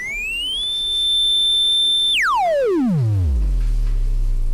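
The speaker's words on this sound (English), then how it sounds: "Now number 2 is a triangle." A pure, steady triangle wave from an analog synthesizer module holds a constant pitch, then sweeps sharply downward into a low, loud drone.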